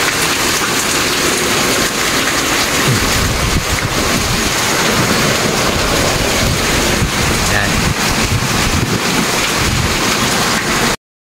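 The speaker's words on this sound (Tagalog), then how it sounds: "So kanina pa to umuulan eh." Heavy rain pours down in a loud, continuous roar, drumming hard on nearby surfaces with gusty noise throughout.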